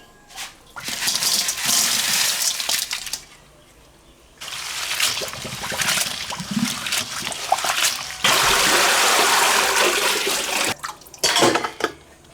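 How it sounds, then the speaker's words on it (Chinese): Locusts being rinsed in water in a kitchen bowl or pot: bursts of splashing and trickling with occasional clinks against the dish, coming in several separate washing spells with brief pauses between. "再清洗一遍。"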